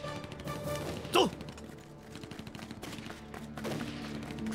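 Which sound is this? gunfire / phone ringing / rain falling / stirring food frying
gunfire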